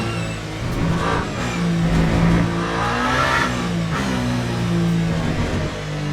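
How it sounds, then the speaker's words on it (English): A race car on worn soft tires in Le Mans Ultimate, its engine droning steadily and close with rising and falling pitch, and the tires faintly squealing and scrubbing underneath. "there's a little bit of tire squeal as well as the sound of the tires scrubbing"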